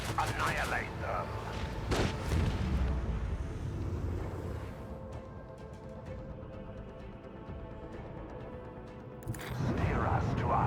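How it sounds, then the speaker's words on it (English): Macro cannons fire in a space warship video game, heavy booming volleys and rumbling blasts rolling over a dense battle soundscape, with a commanding voice speaking over the start and end. "Macro cannons, annihilate them."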